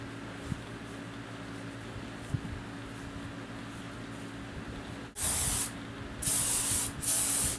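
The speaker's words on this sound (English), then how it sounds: "I also like to go back in with the Big Sexy Hair, because this is a volumizing hairspray" Big Sexy Hair volumizing hairspray sprayed from an aerosol can: after a quiet stretch, three sharp, loud hissing bursts, the first about half a second, then a longer one and a short final blast.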